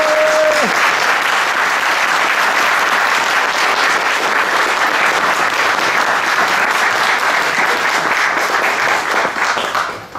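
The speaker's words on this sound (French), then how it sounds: "j'aimerais qu'on les applaudisse une nouvelle fois" Audience at a fan convention talk gives a loud, sustained round of applause lasting about ten seconds, dense and steady throughout before tapering off at the very end, with no voices over it.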